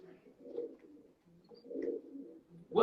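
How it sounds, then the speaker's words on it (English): Racing pigeons in a loft give soft, low, repeated cooing calls, faint and close, in gentle rolling phrases with quiet gaps between them. "These are some of the fastest pigeons on the planet."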